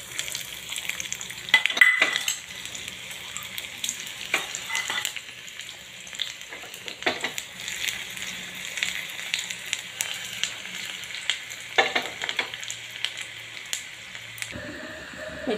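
Chopped garlic and ginger sizzle in hot ghee with a continuous crackling fry, interrupted by occasional stirring scrapes and a few utensil knocks, moderately loud and close, with no speech.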